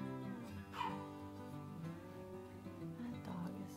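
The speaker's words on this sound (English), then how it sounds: "That dog is just relentless." A dog whimpers and yips continuously in the background of a room where a cowboy figure is being painted, a faint, persistent whining with occasional short barks.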